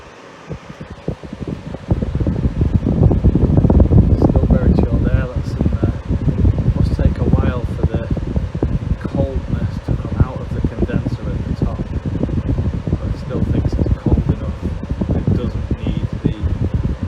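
A portable air conditioner's exhaust fan, its motor just repaired, runs with a steady broadband whoosh after a quiet start, close to the microphone and continuous throughout, with faint clicks and rustles mixed in.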